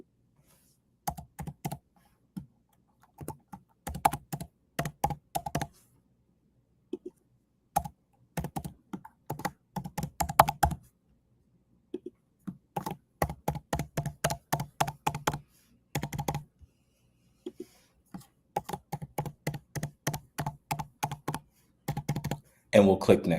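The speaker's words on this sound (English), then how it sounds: "At the database configuration screen, we'll enter in the database name, database user," Database name, user and password typed on a computer keyboard in clipped bursts of crisp key taps, close and clear, separated by short pauses, with no speech over them.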